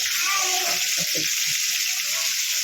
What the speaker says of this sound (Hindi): गोभी फ्राई हो रही है ना, थोड़ा हल्का सा कलर आएगा ना